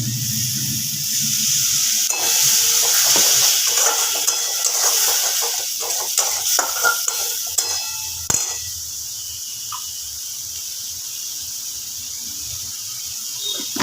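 Spice masala cooking in a pan with a little water added, sizzling and hissing steadily up close with scattered clicks of stirring, ending in a quieter simmer. Spoken before an egg fry is made.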